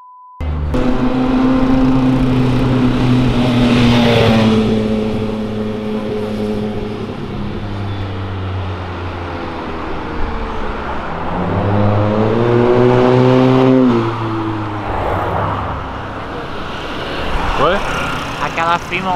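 A Mitsubishi Lancer Evo 9 revs and accelerates hard, its engine note rising and falling in loud sweeping harmonics across several pulls, with people talking over it throughout.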